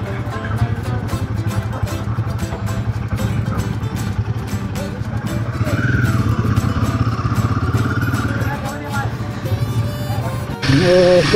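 Motorcycle on a Konkan coastal ride, a loud continuous engine drone with wind rush close to the microphone, rising slightly midway, with a voice talking over it.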